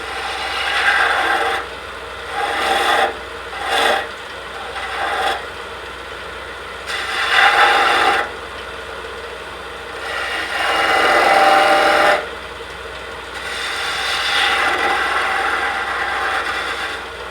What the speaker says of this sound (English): You want to make a scooping cut